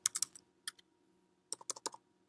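Keys on a computer keyboard clatter in two short bursts of quick, crisp taps with a pause between them, close and fairly quiet in a silent room.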